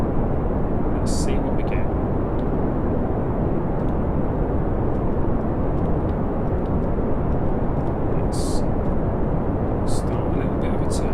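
Rocket engine roaring at throttle-up in the game Kerbal Space Program, a loud, steady, unbroken rumble filling the whole span, with someone talking quietly over it.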